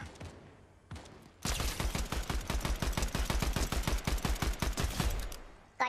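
Rapid automatic gunfire from the video game Fortnite rattles off in a long, steady burst of closely spaced loud shots, preceded by a couple of single shots, with no talk.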